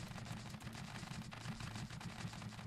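A mounted gun in Scrap Mechanic fires bullets in a fast, continuous rattling stream, faint and steady throughout with no talk.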